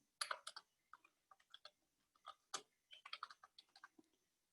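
Someone types on a computer keyboard in a quiet room, a short run of crisp, uneven key clicks in small clusters with brief pauses, close and clear.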